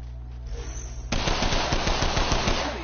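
Rapid automatic gunfire in a first-person shooter video game, a loud sustained burst of closely spaced shots following a quieter moment, with no talking.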